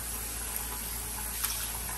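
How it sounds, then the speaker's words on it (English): Water running from a kitchen tap over beef soaking in a bowl, a steady, even hiss of flowing water throughout, fairly quiet and uninterrupted. "I'm gonna just let the beef sit in the water with the water running."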